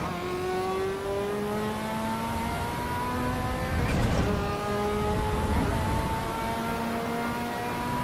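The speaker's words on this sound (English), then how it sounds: "Oh, the sound of the Ferrari." A Ferrari F40 engine in a video game revs repeatedly, its pitch climbing through gears in rising sweeps, with a louder rush midway as the car speeds past, steady and prominent throughout.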